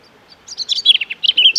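Birds chirp at a purpose-built nesting site, a quick run of bright, high tweets close by, rising in density over a quiet background.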